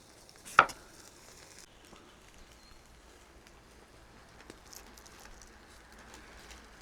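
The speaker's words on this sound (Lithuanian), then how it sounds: "Kepa mūsų sparneliai" Chicken wings frying in a pan give off a faint, steady sizzle, opening with one sharp clatter and a few soft knocks later on.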